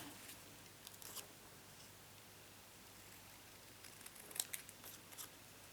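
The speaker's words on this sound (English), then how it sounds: "Nice and easy to cut out, this is." Scissors fussy cut a paper hat shape for card making, making faint, quiet snips and paper rustles close by, clustered toward the end, with no talking.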